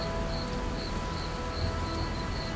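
Steady rain falls on an open, rain-soaked field at nightfall in a supernatural suspense audio story, an even wash of rainfall with faint repeating chirps, continuous and unbroken.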